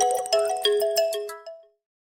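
A mobile phone rings with a bright melodic ringtone, a quick run of chiming notes that carries close and clear before stopping abruptly, leaving silence.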